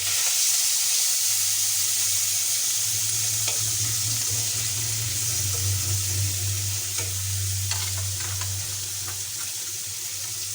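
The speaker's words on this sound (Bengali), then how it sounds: "পুঁটি মাছগুলো ভেজে নিই কয়েকটা ভাজা খাওয়ার জন্য" Small puti fish frying in hot oil, a continuous close sizzle with occasional crackles and a low steady hum underneath, no talk.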